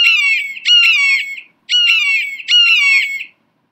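An eagle calling, four loud, near, high-pitched screeching calls in two pairs with brief gaps between, clear against silence.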